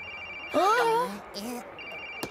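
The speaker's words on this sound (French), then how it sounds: "Le portable de Madame Vinaigre!" A mobile phone rings in a museum setting, giving a short electronic tone pattern at moderate level as voices speak and exclaim over it.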